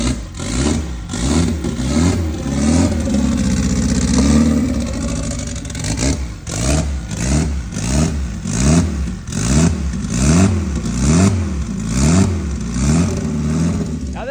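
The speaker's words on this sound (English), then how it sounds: "Now this is the first fire for this motor totally." A freshly rebuilt car engine with a glued head gasket fires up for the first time, then runs in a loud, steady rhythm of repeated revs rising and falling, close and continuous throughout.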